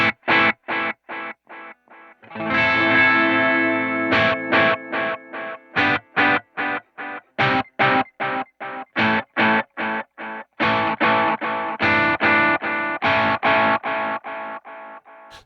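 Electric guitar run through a Nobels Del-mini delay pedal on its tape setting, a burst of distorted chords followed by rhythmic repeats that grow duller and degrade as they trail off, played alone with no talking.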